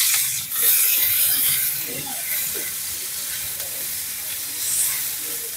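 Chopped onion dropped into hot fish-frying oil with nigella seeds and green chillies, a steady close sizzle and hiss with faint scraping, no talk.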